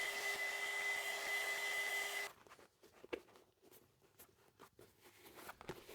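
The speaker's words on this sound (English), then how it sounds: "gently warm it up with a heat gun or hair dryer" A heat gun or hair dryer blows with a steady whooshing hum for about two seconds, warming leather boots, then shuts off, leaving faint scattered clicks and handling sounds.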